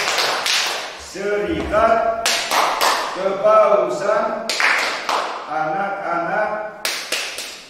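Children clap out a rhythmic tepuk chant at a Sekami children's gathering, sharp claps falling in a steady pattern while their voices chant along.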